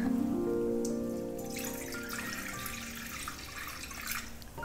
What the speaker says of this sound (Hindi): ये कढ़ाई ली है, इसमें मैं पानी डाल दूंगी करीब दो गिलास करीब